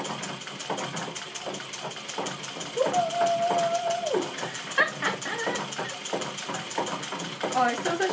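A vintage Singer treadle sewing machine stitches in a rapid, regular mechanical ticking that runs throughout the clip. A person briefly hums or talks over it.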